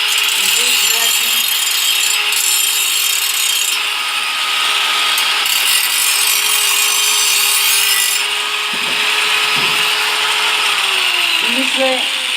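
A rotating drill-type grinder machine runs steadily while a piece of metal is held perpendicular against its spinning surface, giving a continuous loud grinding whine with brief scraping shifts.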